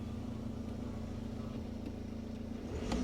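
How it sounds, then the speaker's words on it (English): A 2010 BMW 1 Series Coupe, a salvaged E82, idles steadily in the rain with a low, even engine hum, rising slightly in the final moment. "At least the car is starting, and it sounds good."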